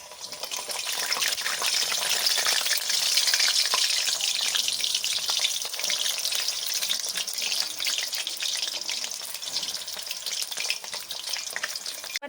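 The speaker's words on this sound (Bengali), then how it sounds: "এবার দিয়ে দিচ্ছি ডালের পুর ভরা আলুগুলোকে ভেজে নেবো" Lentil-stuffed potatoes fry in hot mustard oil, giving a loud, dense, steady sizzle that holds throughout, close by, with no voices.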